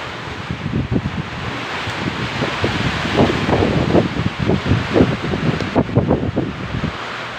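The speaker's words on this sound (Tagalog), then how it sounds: "Malakas ang hangin po dito, Manda." Strong wind from Typhoon Aghon roaring and buffeting against the microphone in Batangas, Philippines, in steady gusts, loud and continuous with no voices.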